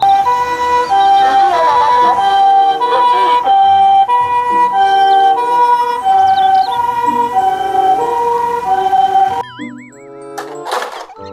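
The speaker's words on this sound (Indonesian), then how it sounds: "Mobil ambulans." A loud toy ambulance siren wails in a repeating tone pattern, up close, then breaks off near the end into a few brief electronic warbles.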